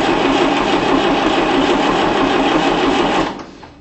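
A vintage tractor engine cranks on the starter while its fuel system is bled: a loud, steady, rapid mechanical churning that runs without a break for about three seconds, then cuts off and fades away.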